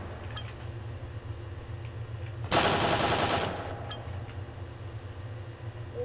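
A realistic gun in the game People Playground fires a loud, rapid burst of about one second, standing out sharply over a low steady background hum, then trailing off.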